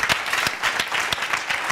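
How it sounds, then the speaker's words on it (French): A studio audience applauds to welcome a guest onto a French-language talk show set, steady dense clapping with a few sharper claps standing out throughout, close and fairly loud. "On va l'applaudir pour l'accueillir."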